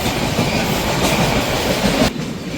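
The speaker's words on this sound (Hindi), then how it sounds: "ट्रेन थोड़ा सा स्लो हो रही है" Konkan Railway train running on its tracks and slowing down, heard from on board: a loud, steady roar of wheels and carriages with faint rhythmic clatter, dipping slightly near the end.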